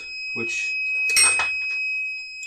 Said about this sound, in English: that's my alarm saying I've got 3 primers left